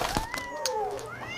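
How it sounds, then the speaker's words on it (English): A cat meows with a rising and falling drawn-out cry, close and moderately loud, overlapping with faint background clatter. "Is that the neighbor's cat?"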